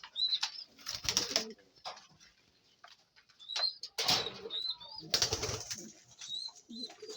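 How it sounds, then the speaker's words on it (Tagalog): Soft pigeon coos come and go between bursts of wing flapping, with quiet pauses in between. "Ibon ni Idol Reggie."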